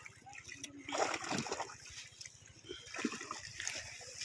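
Water splashing and sloshing as a fishing net is hauled in at a fishery pond, irregular wet splashes and trickles rising and falling over a steady low engine-like hum.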